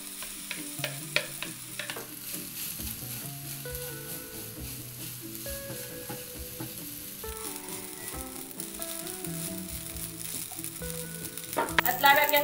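Cooked rice for shawarma rice is tossed and stir-fried in a hot pan, giving a steady sizzle with scraping stirs throughout, over continuous background music and louder clatter near the end.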